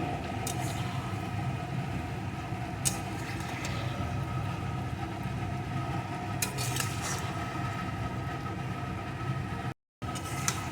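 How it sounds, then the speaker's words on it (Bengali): A spoon scrapes and clatters in a pan while fish curry ingredients with chilli powder, turmeric and salt are stirred, intermittent light metallic scrapes over a steady background hum. "আবারও কিছুক্ষণ আমি নেড়ে নেব"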